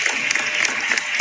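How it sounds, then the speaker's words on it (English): A short burst of crowd clapping plays during a live coding stream as a guest joins, with dense, even claps. "Marc, you also have a bunch of people clapping at you right now."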